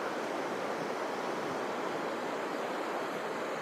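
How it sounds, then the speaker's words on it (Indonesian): A powerful waterfall roars in a steady, dense broadband rush of falling water, continuous and close for the whole stretch with no voices over it. "Salah satunya air di sekitar saya ini, air terjun yang luar biasa"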